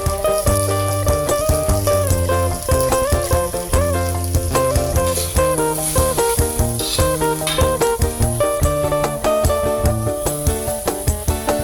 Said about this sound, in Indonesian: Selanjut masukkan potongan tomat segar ke dalam wajan.